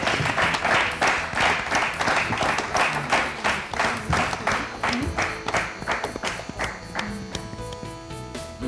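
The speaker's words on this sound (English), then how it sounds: "Let's have a big round of applause for them." A science quiz show audience claps loudly at first, the dense applause gradually thinning and fading as a few people speak underneath.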